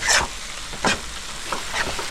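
Ginger, garlic and chilli paste frying in a pan, sizzling steadily while a spatula scrapes and stirs in several distinct strokes close by.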